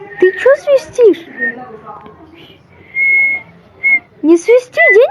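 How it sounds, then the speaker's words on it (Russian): A person whistles short, bright tones in several bursts, alternating with lively talk from two voices; one sustained whistle sits between spoken phrases, clear and close. "Ты чё свистишь?"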